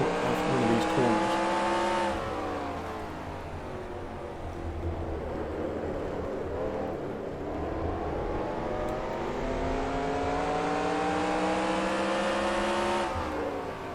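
A Next Gen stock car roars around Martinsville in NASCAR Racing 2003, the engine droning loudly and continuously, easing off into a corner and revving up again on exit, with no talking.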